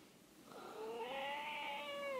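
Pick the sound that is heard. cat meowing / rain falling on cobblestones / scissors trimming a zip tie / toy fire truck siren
cat meowing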